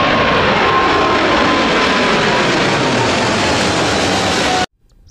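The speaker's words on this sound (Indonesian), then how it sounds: "Pesawat terbang." An airplane in flight gives a loud, steady engine roar that holds for several seconds and then cuts off abruptly into near silence.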